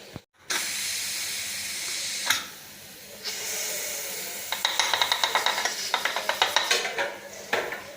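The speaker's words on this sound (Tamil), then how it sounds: "விசில் போடிச்சு" A pressure cooker hisses loudly with steam, then breaks into a rapid, pulsing whistle of repeated bursts, close and alone.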